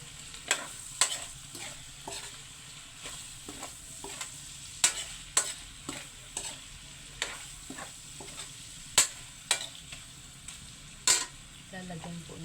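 Adobong kangkong, water spinach with chilies, fries in a pan as a utensil stirs it, sharp scraping clinks recurring every second or so over a soft, steady sizzle, close and fairly quiet.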